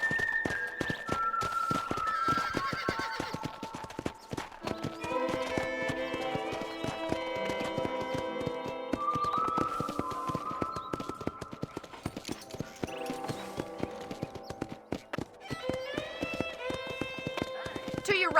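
Horse hooves from Red Dead Redemption clip-clop steadily at a gallop for the whole stretch, set against a continuous game music score.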